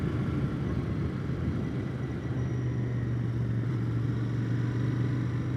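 Steady low engine drone and road rumble from a 2020 Royal Enfield Interceptor 650 motorcycle being ridden through a corner, a continuous near hum with a slight throttle swell and no talking.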